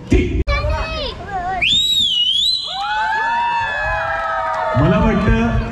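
A girl whistles on stage at a live Bhim Jayanti show in Badlapur, with clear gliding melodic notes rising and falling over a noisy crowd and nearby voices.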